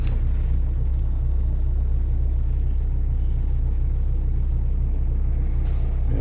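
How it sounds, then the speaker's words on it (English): Thomas HDX school buses pass close by with a loud, continuous low engine rumble and a brief air-brake hiss near the end. "And I'll let these buses go by"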